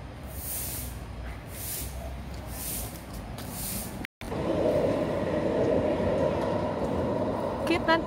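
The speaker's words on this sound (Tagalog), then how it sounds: "Cute ng train nila. Ang ikse." Short train passing near Yuen Long Park, Hong Kong, heard as a steady rumbling roar that grows louder partway through, with faint voices in the background.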